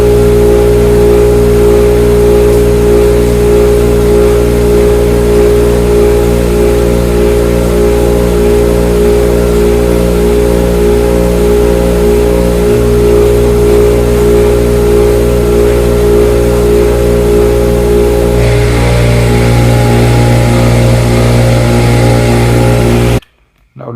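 A Harbor Freight dust collector with a boom arm vacuums a workshop table, giving a loud, steady motor hum and airflow drone with a faint whistle near the end before it cuts off. No one speaks.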